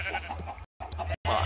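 Sheep bleating in the video game Minecraft, several short bleats close up with brief silent gaps between them, sounding with other game noise.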